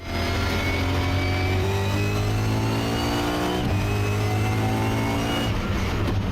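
A car engine revs hard and steadily climbs, with quick gear shifts briefly dropping the pitch before it rises again, loud and close.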